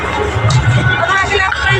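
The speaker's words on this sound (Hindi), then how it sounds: "नजर आदमी से पूरा भीड़ लागल है।" Crowd noise at the Mithila Haat fair, a steady hubbub of many voices and general bustle close around, with indistinct babble and no single speaker standing out.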